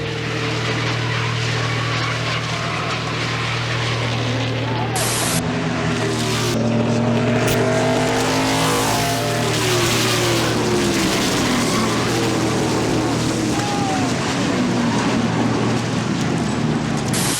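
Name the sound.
NASCAR race cars and trucks crashing on track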